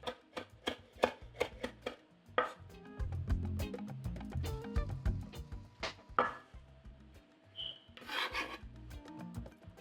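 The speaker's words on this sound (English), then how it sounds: "Wash and chop fresh parsley." Fresh parsley chopped with a knife, a run of quick, crisp taps on a cutting board in uneven bursts, close and fairly quiet, with no talking.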